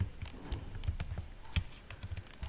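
Rapid, uneven typing on a computer keyboard, soft clicky keystrokes in short bursts with a few louder taps, close and steady throughout with no talking.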